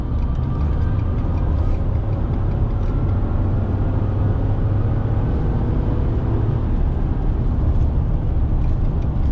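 A Ford F-150 EcoBoost pickup with a performance economy tune accelerates hard on the highway, its loud engine roar and road rumble droning continuously inside the cab with no voices.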